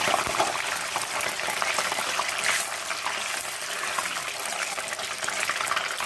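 Hot mustard oil in a pan as fish oil is poured in, giving a loud, steady sizzling hiss that carries on evenly throughout.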